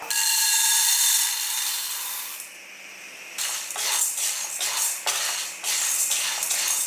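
Chana dal being scooped into a cup, a dry grainy rustle and rattle in uneven bursts after a brief hiss, close up with no talking.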